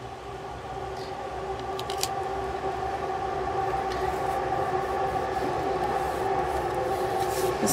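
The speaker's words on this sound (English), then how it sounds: "Here comes a train." A train passes nearby with a steady, loud rumble and a sustained hum that holds for the whole stretch, plus a few faint high squeals, with no talk over it.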